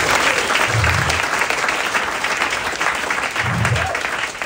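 A church congregation claps together at a service. The applause is loud and continuous throughout, with some talk mixed in underneath.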